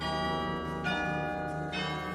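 Iowa State University campanile bells ringing, sustained resonant tones overlapping in a steady, moderately distant peal with no voices.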